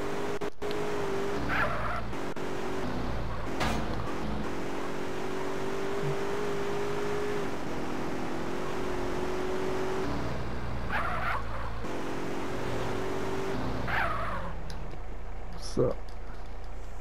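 A car driving in the video game GTA San Andreas, its engine holding a steady drone with shifting pitch throughout, under continuous background noise and game sounds.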